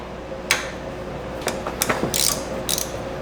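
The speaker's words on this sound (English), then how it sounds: "let me grab the wrench real quick and we can go ahead and pop this off" A wrench loosens 10mm bolts on a bracket of a 2006-2011 Honda Civic, giving a few short, sharp ratcheting clicks against a steady background hum.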